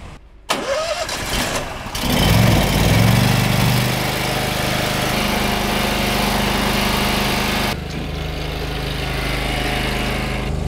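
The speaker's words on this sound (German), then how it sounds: "Also das Fahrzeug mal heben wir jetzt an mit dem Luftheber" A pneumatic air lifter jack inflates beneath a broken-down truck trailer on a motorway shoulder, a sudden loud hiss and rumbling engine-like roar that holds steady, then drops to a lower continuous drone, with no talk over it.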